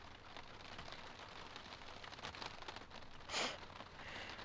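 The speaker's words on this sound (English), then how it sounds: "Can you guys hear the rain right now?" Steady soft patter of rain on a truck camper fills the background, with a brief louder hiss of splashing drops midway through.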